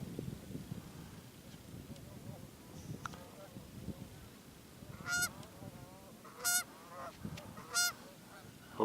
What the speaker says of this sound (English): that's definitely a duck of some kind